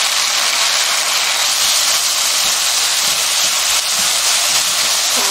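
Onions sizzle and hiss loudly and steadily in a hot pan as they are stir-fried for jjajang sauce. The sizzle is close and continuous, with faint scraping of stirring underneath.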